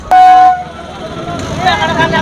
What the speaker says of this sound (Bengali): দেখো গাইজ ট্রেন যাচ্ছে আর কি